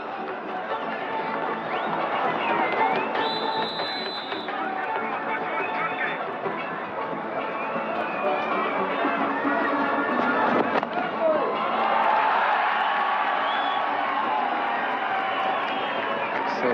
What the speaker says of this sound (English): certainly it's a very lively crowd here, very good-natured